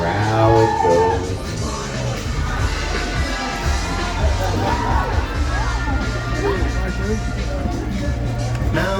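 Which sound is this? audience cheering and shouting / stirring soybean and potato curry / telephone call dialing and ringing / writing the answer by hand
audience cheering and shouting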